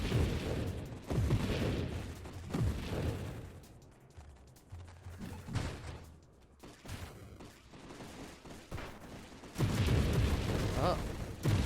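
Dense bursts of explosions and rapid weapon fire from space combat in Nova Drift roar in several heavy waves, with a quieter lull in the middle, while a voice talks over the action.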